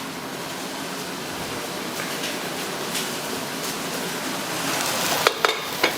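Fish curry being stirred in a pan, with a steady sizzle and scraping running throughout, closing with a few sharp clinks of the utensil against the pan.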